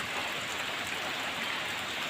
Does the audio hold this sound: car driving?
no